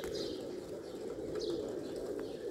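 A large flock of pigeons cooing together, a soft, continuous low burbling murmur with a few faint chirps mixed in, steady and moderately close.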